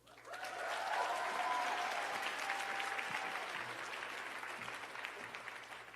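Sustained applause from the audience at a Girls Who Code event with Congresswoman Alexandria Ocasio-Cortez, rising quickly and holding at a steady, dense level for several seconds with a faint tonal hum beneath.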